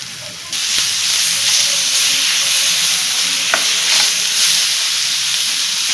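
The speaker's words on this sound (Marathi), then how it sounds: "आता हे सगळं आपण मिक्स करून घेऊ." Chopped tomatoes are stirred and sautéed with onion in a pan for chicken tikka biryani, making a loud, steady hiss and sizzle that swells after a brief quieter start, with a faint scrape or two.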